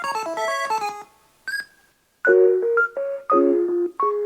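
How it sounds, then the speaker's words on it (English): A bright, chiptune-style Kirby video game jingle of quick synthesized notes, a short pause, then a bouncier phrase of bleepy tones, played alone and fairly loud. "there's this little jingle that I just decided to use as the intro"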